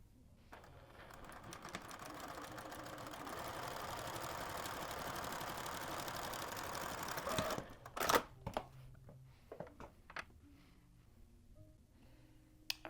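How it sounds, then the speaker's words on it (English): A home sewing machine runs a plain seam for several seconds as a steady mechanical whir, then stops with a few sharp clicks and clunks of back-stitching and handling, quiet and close. "here at my machine, I'm going to stitch this together using a plain seam"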